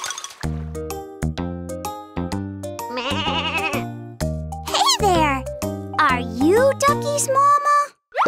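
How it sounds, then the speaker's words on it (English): In a children's nursery song, a wavering sheep bleat rises over bright, bouncy music with sung voices, its bleat loud and close among playful melodic notes. "That's a sheep!"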